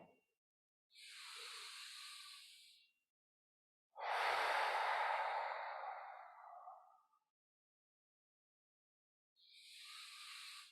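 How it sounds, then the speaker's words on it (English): Slow, deep breaths during a movement therapy class, three full airy breaths separated by silence, the middle one loudest and longest, heard close and alone. "get a nice 5 or 6 full inhales and exhales"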